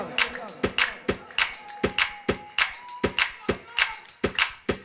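Group of women clapping their hands in a steady, repeated rhythm to music, with sharp claps rising over a busy mix of singing and talk.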